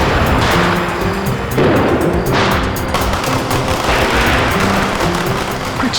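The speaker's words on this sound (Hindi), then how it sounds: "आओ ना, पटाखे जलाते हैं।" Firecrackers bursting in a rapid, continuous crackle of sharp pops and bangs, loud and close, with a festive tune playing underneath throughout.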